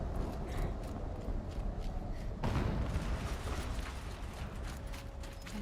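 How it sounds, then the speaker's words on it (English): A loud explosion in the video game Horizon Zero Dawn bursts midway through a steady mechanical, rumbling game soundscape, with a heavy low boom followed by lingering rumble. "An explosion."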